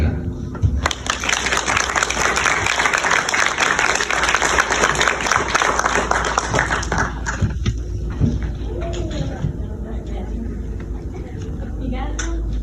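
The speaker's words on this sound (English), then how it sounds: "If you would give a big round of applause to Miss Angela Young." An audience applauds a contestant at a Ms Wheelchair South Carolina pageant, a dense burst of loud clapping lasting about seven seconds before it thins out, followed by quieter room noise and a voice speaking.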